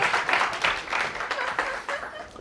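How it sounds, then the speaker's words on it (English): Audience applause at a neighbourhood science talk on global warming, a brief round of clapping from a modest crowd with uneven bursts, fading slightly toward the end. "Great applause to you."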